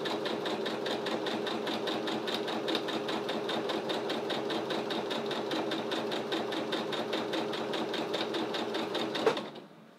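A sewing machine runs a continuous stitching rhythm for about nine seconds while sewing a visible zipper seam, a steady close-up whir with fast regular needle ticks that stops abruptly near the end.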